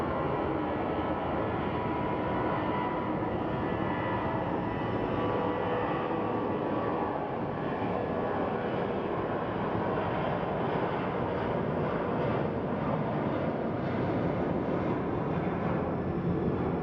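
An airliner departs Phoenix Sky Harbor Airport for LAX, giving off a continuous, heavy jet engine roar that fills the whole stretch at a steady level, with no voices.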